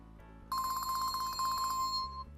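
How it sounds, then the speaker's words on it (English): A mobile phone ringtone suddenly plays during a comic convention panel, a steady bright electronic tone with rapid warbling pulses, loud and near for about a second and a half before it cuts off. "I did not turn off my phone."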